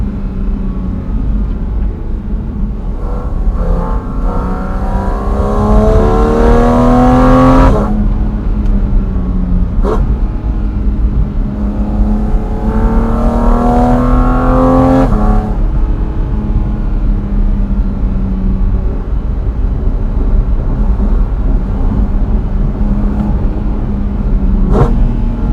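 A Porsche Cayman GT4 RS on an Alpine pass revs hard in repeated climbing pulls toward 9000 RPM, loud and close, with abrupt breaks between gear changes and a steady road rumble underneath.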